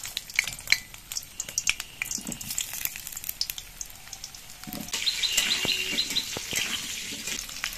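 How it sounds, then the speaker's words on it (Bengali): Round-cut potato slices fry in mustard oil with a steady, close hiss of bubbling oil, broken by occasional clinks and scrapes of a utensil; no one speaks. "এবার আলুগুলোকে আমি সর্ষের তেলে ভেজে নিচ্ছি।"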